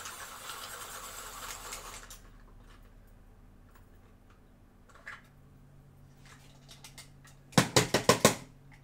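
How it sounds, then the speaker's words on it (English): A pencil sharpener works on a graphite pencil at a coloring table: after quiet room tone, a brief burst of rapid grinding clicks comes close to the microphone near the end. "if you sharpen a graphite pencil with your sharpener, it cleans it"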